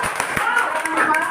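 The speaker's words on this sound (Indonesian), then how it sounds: "Tepuk tangan untuk kelompok." A classroom of students claps briefly for a group, with a few quick, scattered claps mixed with voices in the room.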